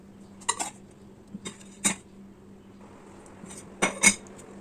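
A spoon stirring idli batter mixed with baking soda in a bowl, giving a few scattered clinks and scrapes against the dish with quiet pauses between them.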